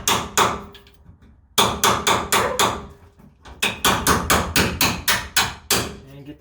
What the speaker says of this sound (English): and take your hammer